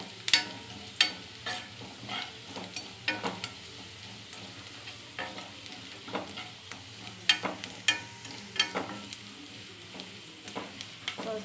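Crushed garlic fries in a pan for sambar, sizzling softly under repeated scraping stirs from a spoon, heard up close with no talking.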